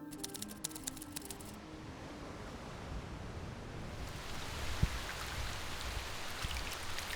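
Rain falls steadily during Indonesia's February rainy season, a dense hiss of drops that grows louder partway through, with some sharper patters and taps mixed in.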